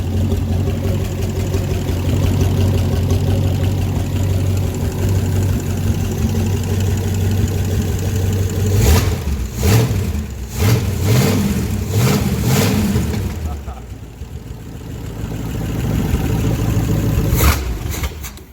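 A junkyard 1978 Pontiac 400 V8 running loudly with a deep, rough idle, then revved in several quick bursts before settling, then a final blip, heard close with no talking.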